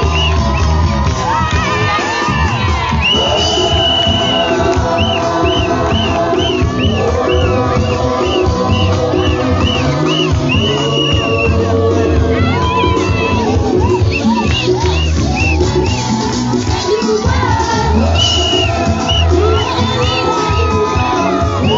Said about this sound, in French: Cela nécessite que l'on applaudisse très fort